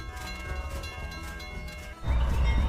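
Amtrak Silver Meteor train number 98 pulling out of the Sebring station downtown, a steady rumbling roll with rail clatter that swells suddenly louder and rougher partway through, close by, with no talking.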